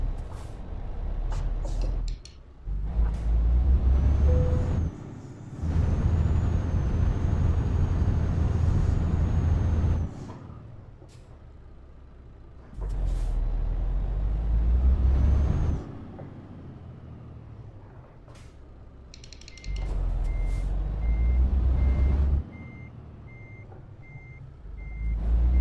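A truck reverses in Euro Truck Simulator 2, with a repeating reversing beep over the engine, bursts of engine rumble and air-brake hisses between quieter gaps.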